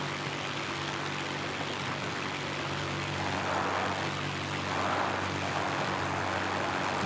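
Propeller engine of a Wirraway warplane in the World of Warplanes video game, a steady, loud, unbroken drone that swells slightly midway and holds for the whole stretch, with no talking.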